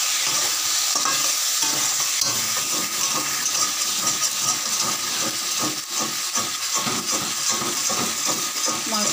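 Meat simmering with a piece of cinnamon in a pot, giving a steady close sizzle and bubbling hiss with faint stirring scrapes throughout, and a voice talking softly over it at times.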